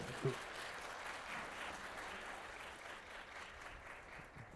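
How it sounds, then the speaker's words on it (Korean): An audience at a Korean apartment residents' general meeting and move-in seminar applauds steadily for about four seconds, a soft, even patter of many hands heard from some distance without talk. "박수 한번 쳐주세요."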